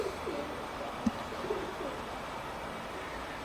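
A pigeon coos softly in a garden pigeon sanctuary, faint low murmuring calls against an outdoor background hum, with one brief click.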